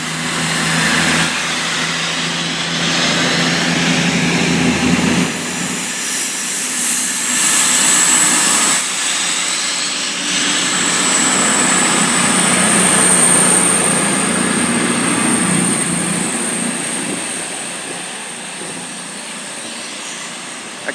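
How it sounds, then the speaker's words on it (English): A Class 221 Voyager diesel train on a Manchester to Bournemouth service pulls out of Banbury station, its loud, steady engine roar rising and swelling close by for about twenty seconds amid gusting wind. "pulling out now the Class 221 Voyager service to Bournemouth from Manchester"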